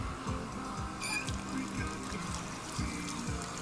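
A thin trickle of running water from a tap, steady and fairly faint, layered over soft game music with a repeating low rhythm.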